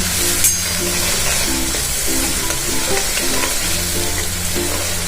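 Crushed ginger, chilli, garlic and onion frying over a low gas flame, a loud continuous sizzle with steady stirring underneath, close up and without speech.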